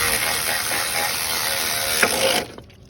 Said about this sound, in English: Electric ratchet, 13mm.